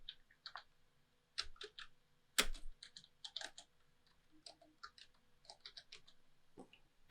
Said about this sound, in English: And now let's type.